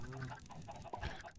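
Chickens cluck softly in Minecraft, a few faint, short clucks over a quiet game background with no one talking.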